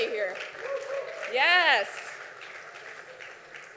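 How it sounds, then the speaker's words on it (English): An audience applauds at a Forbes Innovators event, a burst of clapping and a rising whoop that peaks briefly, heard under and around a speaker's amplified voice. "give yourselves a big round of applause"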